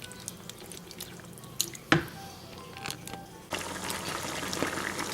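Curry sweet potato cooks on high heat as it is stirred, with soft wet squishes, drips and occasional louder scrapes, then a steadier bubbling sizzle filling in near the end.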